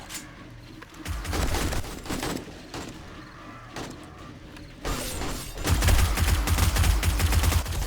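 Bursts of gunfire in the zombie survival video game 7 Days to Die, Alpha 19, come as rapid clustered shots with mechanical clatter, loud and close, pausing briefly before another heavy volley.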